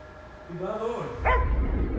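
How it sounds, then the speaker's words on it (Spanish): A trained search dog barks its alert during a landslide emergency drill, a few close, loud yelping barks and whines coming one after another, with voices heard around the animal. "un perro de búsqueda entrenado con el método Arcón da la alerta con su ladrido al detectar a una persona sepultada bajo tierra"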